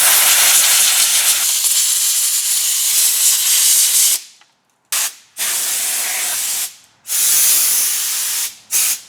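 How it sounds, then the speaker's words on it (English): An air blower blasts a junkyard Toyota Supra with a loud, close hiss that runs steadily for about four seconds, then breaks into several shorter bursts with brief silent gaps between them. "We'll get the air blower. We'll blow this thing off"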